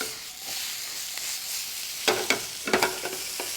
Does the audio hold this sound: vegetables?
yes